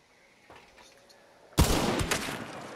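Gunfire in Hunt: Showdown: a few faint distant shots, then a sudden loud burst of close shots followed by a ringing tail and a couple more reports.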